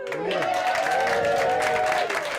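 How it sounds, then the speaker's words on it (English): Spectators at a cricket ground applaud young Prince Louis after he changes the scoreboard numbers, steady clapping running beneath a narrator's voice. "getting a round of applause after changing the numbers on this scoreboard"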